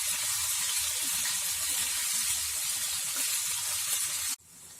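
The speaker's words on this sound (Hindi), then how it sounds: "हाई फ्लेम पे हम इन्हें फ्राई कर लेते हैं। इसे अच्छे से फ्राई करें।" Mutton pieces frying for tawa gosht on high flame, a loud continuous hiss of sizzling oil with bubbling pops underneath, cutting off abruptly near the end.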